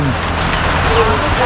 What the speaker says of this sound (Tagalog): At umuulan.